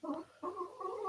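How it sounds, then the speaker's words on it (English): A dog snoring nearby indoors, two or three short rasping, gurgling breaths in quick succession, quiet and close with no talk over them. "my dog over here, who is snoring"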